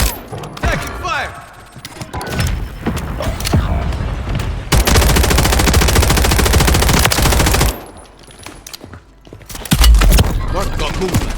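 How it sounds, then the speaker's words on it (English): Gunfire in the Warzone video game, with scattered shots building into a long sustained machine-gun burst, then thuds and a heavy boom, loud and close, with brief radio-style voice lines. "Taking fire!"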